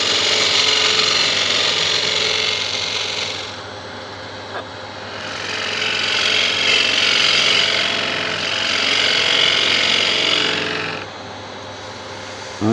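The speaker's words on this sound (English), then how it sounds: "Gonna get in there with a detail gouge to get rid of that." A wood lathe spins a prototype Art Deco candlestick while a detail gouge cuts it: a loud, steady motor drone with a constant hum, swelling into bursts of harsh hissing and scraping as the tool bites, alone without talking.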